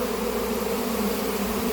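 A honeybee swarm gathers around an empty bait hive of built frames with no honey or brood, giving a loud, dense, continuous buzzing drone close by with no voices.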